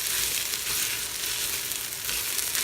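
Onions sautéing in a pan for chili, a dense, steady sizzle and crackle filling the whole stretch, close and loud with no voices.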